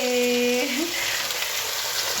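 Papad frying in hot oil in a home kitchen, a steady broadband sizzle that holds close and fairly loud throughout, with a brief faint tonal whine at the start.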